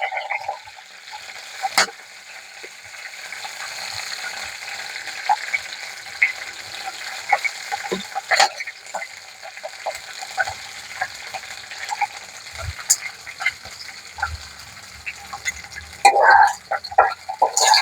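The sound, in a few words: green chilies frying in oil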